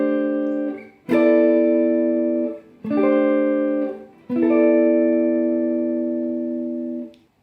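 Quartal voicing chords strummed on a jazz guitar, four ringing chords in turn, each struck cleanly and left to sustain and fade, close and clear with no talking.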